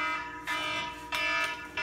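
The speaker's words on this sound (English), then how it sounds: "Somebody's alarm going off." A telephone's electronic alarm goes off in three short, evenly spaced bursts of bright tone, fairly faint and with no voices over it.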